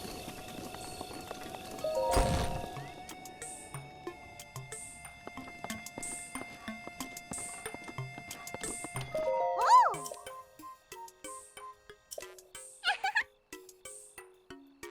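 Horse hooves clip-clopping and a sharp neigh in Zelda: Breath of the Wild during a horse riding event, with rhythmic game hoofbeats, bright chimes and a loud whinny partway through.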